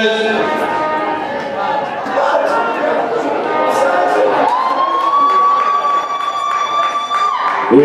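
Crowd at an American football game between Angels Toruń and Wilki Łódzkie cheers loudly and steadily, a sustained roar with whistles and shouts, while an announcer talks over it.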